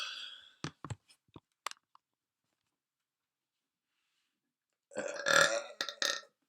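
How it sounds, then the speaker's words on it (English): Short clicks and faint mouth noises, then after a pause one loud, drawn-out burp close to the mic, heard alone with no talk. "Burp."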